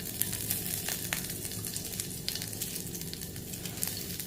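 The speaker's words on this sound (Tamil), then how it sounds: "1/2 டீஸ்பூன் நல்லெண்ணெய் விட்டுக்குருவோம். கொஞ்சமாக லைட்டாக கடுகு போட்டுக்குருவோம்." Mustard seeds and cumin sizzle in sesame oil in a kadai, giving a steady, dense crackling fry with small pops throughout, fairly close and with no voices.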